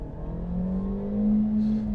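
A 2021 Suzuki Ignis with a 1.2 engine revs steadily upward in a rising drone heard from inside the cabin, loud and continuous over road noise.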